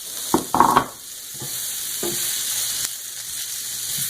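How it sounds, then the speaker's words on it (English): Two whole onions frying in a pan and being stirred, a few quick clattering knocks of the utensil up front followed by a soft, steady sizzle close by. "It's 2 whole onions, and we're gonna fry them up for about 5 minutes."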